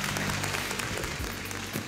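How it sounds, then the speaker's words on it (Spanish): A studio audience applauding on a television talk show, a dense, continuous patter of many hands clapping at close range, steady and fairly loud for the whole short stretch. "Mariana Loyola, fuerte el aplauso."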